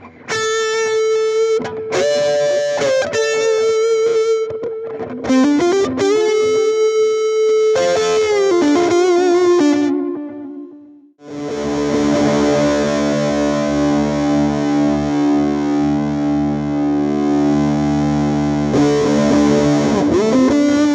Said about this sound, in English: Is this distortion fuzz?